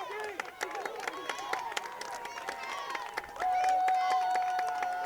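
Spectators at a Peddie vs. Hun football game clap and cheer for the Hun defense, with rhythmic claps and a held whistle-like tone under a commentator's voice.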